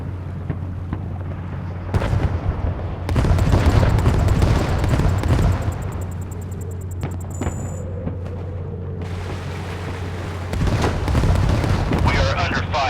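Warship under enemy fire in the Force of Warships naval game, with heavy booms and blasts striking in bursts over a constant low engine drone, while a voice speaks between impacts.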